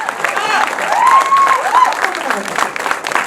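An audience at an anthology film premiere event applauds, a short burst of clapping mixed with overlapping voices and cheers from the crowd.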